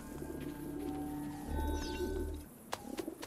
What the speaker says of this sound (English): Is it a pigeon coop?